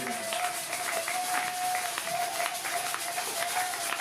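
A church congregation applauding the Lord: steady, dense clapping from a crowd in a reverberant hall, continuous and moderately loud with a faint sustained tone underneath.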